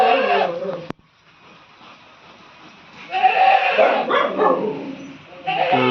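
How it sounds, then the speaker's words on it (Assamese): A dog near a household where goats are kept for Eid ul Adha gives a few short, close barks and yelps, broken by a brief silent gap. "এইটো হ'ল কুকুৰ।"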